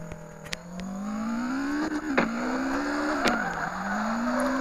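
Box car drifting in the video game CarX Drift Racing 2, a continuous engine whine rising and dipping in pitch as it revs, with tire squeal and a few sharp clicks, steady and fairly loud.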